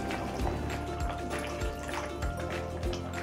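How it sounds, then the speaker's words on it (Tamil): Water poured into a simmering potato masala in a pan, giving a close, steady splashing and dripping trickle with faint low bubbling underneath. "தண்ணி கொஞ்சம் சேர்த்துக்கலாம்."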